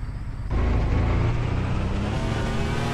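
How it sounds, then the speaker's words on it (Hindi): A car engine in the video game Car Dealership Simulator kicks in after a brief quiet moment, then holds a loud, steady, close rumble to the end. "भाई साहब गाड़ी का साउंड बहुत मस्त है यार"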